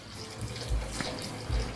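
Water is poured into a pot of oxtail stew, a short, soft splashing pour with a couple of low thuds, quiet and brief.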